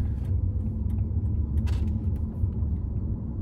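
Mercedes E500 W211 V8 engine, a low, steady rumbling burble heard at close range with a few faint higher rattles, constant for a few seconds with no talk.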